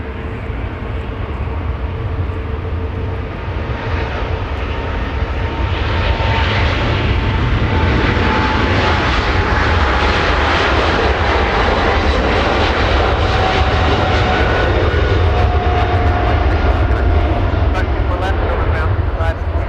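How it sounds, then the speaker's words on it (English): A British Airways Boeing 777 with GE90 engines spools up to takeoff thrust at Los Angeles International Airport, a loud, sustained roar that builds and holds steady throughout. "GE90 is powering up. That 777 flying back to London Heathrow."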